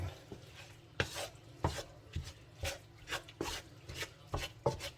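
Ground beef stirred while browning in a pan for a hamburger biscuit bake, giving repeated scraping, tapping utensil strokes about once a second over a low steady sizzle, close and moderately loud, with no talk.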